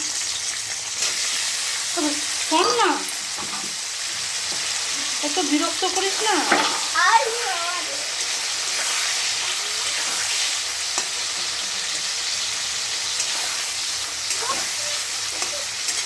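Chopped onion and tomato fry in oil with cumin, bay leaf and whole garam masala for mutton curry, sizzling steadily while a spoon scrapes and stirs the pan. Someone speaks briefly over the cooking.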